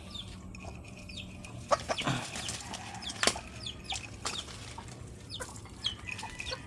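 Chickens cluck and flap their wings in a farmyard during feeding. Scattered squawks and bursts of wingbeats stand out over a steady outdoor background, fairly close by.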